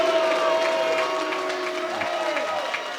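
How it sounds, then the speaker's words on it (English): Wrestling crowd at a Global Wars UK 2024 match between Michael Oku and RKJ, a steady broad roar of the audience with scattered jeers and a few sharp whistles, loud and continuous throughout. "And this crowd are not happy at all."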